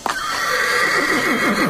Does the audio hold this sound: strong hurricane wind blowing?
no